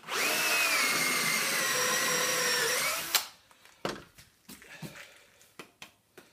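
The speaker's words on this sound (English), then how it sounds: "These are a brad point drill and they're really nice for woodworking." A power drill with a brad point bit whines steadily for about three seconds as it bores through wood, then stops, followed by scattered knocks and handling clatter.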